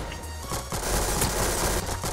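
Sustained automatic fire from an MG42 machine gun in a video game, a continuous rapid burst with a few brief dips, loud and close with no talking.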